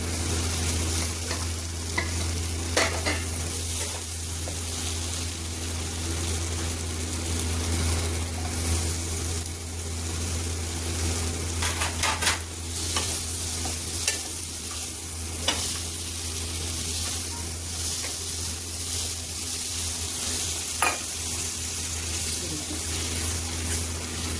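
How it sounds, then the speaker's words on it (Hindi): Fried cauliflower being stirred into cooked masala in a pan for aloo gobi, giving a steady close sizzle with scraping spoon strokes and occasional clinks throughout, no talking. "अब इसमें हम ये डाल देंगे अपनी फ्राई की हुई गोभी"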